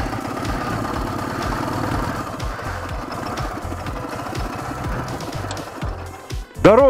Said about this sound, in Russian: Даже не боятся звука мотора.